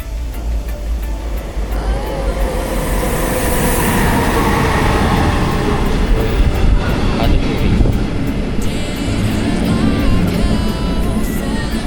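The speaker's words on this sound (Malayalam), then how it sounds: "പോകാനുള്ള ട്രെയിൻ വന്നു" A train arrives at a station in Czechia near the German border, its loud continuous rumble and clattering wheels rolling close by, with high screeching brakes and a few brief voices.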